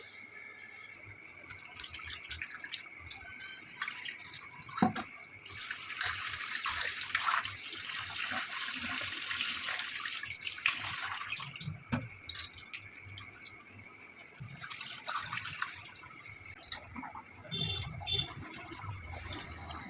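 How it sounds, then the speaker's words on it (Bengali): Raw chicken rinsed under a running kitchen tap, a steady gush of water with splashing and handling noises that swell and fade over about twenty seconds, close by, with no talk. "তো দেখো চিকেনটা আমি ভালো করে ধুয়ে নিলাম।"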